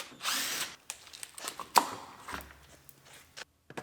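Power drill driving Torx screws into the interior trim of a rolled-over Chevrolet Silverado truck, short whirring bursts and clicks close by with brief gaps between them.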